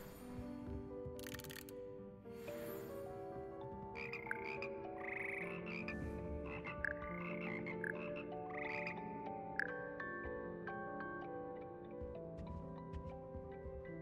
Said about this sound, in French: C'est ici que se perchent les grenouilles gluantes et mélodieuses qui forment le cœur des grenouilles de Poudlard.